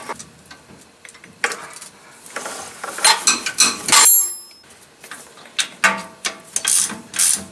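A hand ratchet loosens the lug nuts on a Nissan D21 Hardbody wheel, close and crisp, in uneven bursts of rapid clicking separated by brief pauses, with a few metallic clinks.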